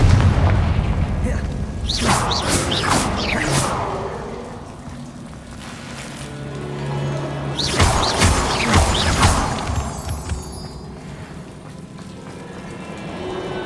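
Booming blasts from the Confringo spell in Hogwarts Legacy, two heavy explosive bursts a few seconds apart with crackling debris trailing off, close and loud over a rumbling ambient bed.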